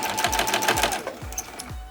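A sewing machine stitches a diagonal line across a hot pad at a long 5 mm stitch length, running loud and close with a rapid whirring mechanical rhythm and regular low thumps, no talk.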